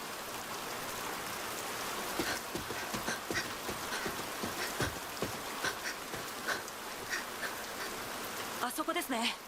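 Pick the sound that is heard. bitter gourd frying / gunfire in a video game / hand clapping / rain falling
rain falling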